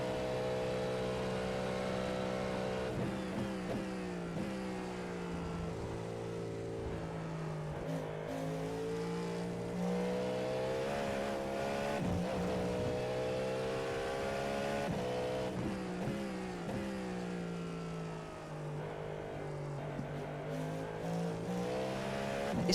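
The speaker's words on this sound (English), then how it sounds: "It's like 2 different engine sounds in one. On the low revs, it's like grunting, and as you get in the revs, it just sings." A race car engine in the iRacing sim revs up and down repeatedly, a grunting low-rev drone that climbs into a singing high-rev wail, loud and continuous with shifts throughout.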